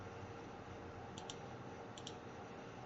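Two quiet double-clicks from a computer mouse while a spreadsheet filter is being set, spaced under a second apart over faint background hiss.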